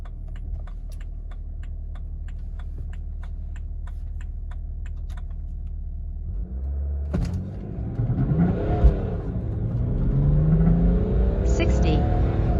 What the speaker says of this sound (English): we're just going to give her the beans and see what 0 to 100 time we can get